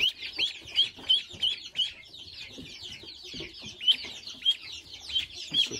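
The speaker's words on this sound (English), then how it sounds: "This is the bigger out of the two baby ducklings." Two baby ducklings peeping indoors, a run of high, thin chirps that repeat in quick rhythmic bursts with soft background rustling, close and moderately loud.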